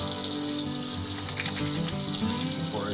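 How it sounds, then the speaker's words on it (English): Tap water runs steadily into a kitchen sink as hands are washed under the stream, a continuous close splashing rush with no talking. "So I'm gonna wash my hands again"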